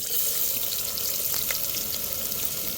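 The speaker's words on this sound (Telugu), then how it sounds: "అరించి చెక్క, 3 లవంగాలు, 1 యాలక్కాయ వేసుకున్నాను. ఇవి కూడా చక్కగా ఫ్రై అయిపోతున్నాయి" Cinnamon, three cloves and a cardamom pod fry in hot oil in a pressure cooker set on a wood-fired stove, a steady close hiss with a few faint crackles.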